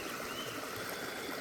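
Steady flowing water at a trout fish farm in remote Nepal, a soft continuous rush with no voices over it.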